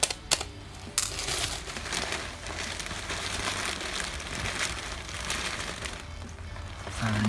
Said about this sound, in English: I'll make some hole in this potting mix bag as well